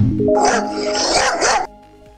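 A dog lets out a loud, drawn-out bark or yelp that rises and holds for over a second, then cuts off, leaving a quiet background.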